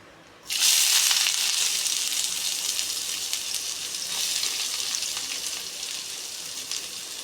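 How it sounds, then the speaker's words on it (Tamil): Onions dropped into hot oil with mustard seeds and dried red chillies, bursting into a loud, close, hissing sizzle that stays strong and steady, with no one talking. "சேர்த்துட்டு நல்லா ஃப்ரை பண்ணிக்கோங்க"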